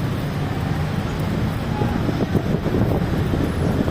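Steady wind buffets the microphone on an overpass with a low, rumbling roar that fills the whole stretch, with muffled voices faintly underneath.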